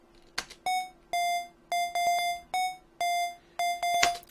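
Bright, harmonic dubstep lead synth stabs from u-he Hive, two voices, octave raised by two, play in short rhythmic bursts, repeating at a steady pace with a buzzy lead tone.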